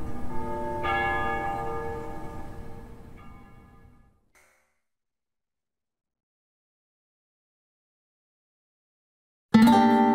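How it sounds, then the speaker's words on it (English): Church bells ringing at dusk in a capital city in the game Ace Combat Zero, several loud overlapping strikes decaying into silence, then one sharp new strike at the very end. "They ring the bells here at dusk to honor the liberation of the capital."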